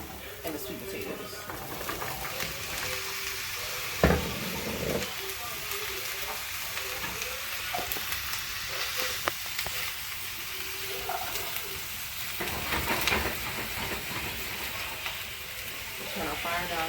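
Carrots and sweet potatoes fry with garlic in a pan for a root vegetable curry, giving a steady close sizzle and crackle with occasional stirring clinks, and a voice talking over it.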